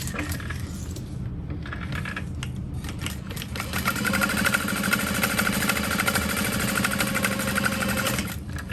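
A sewing machine stitches down the edge of zipper tape layered with lining fabric for a small bowler hat, a steady mechanical whir that picks up speed halfway through and runs continuously, close and fairly loud.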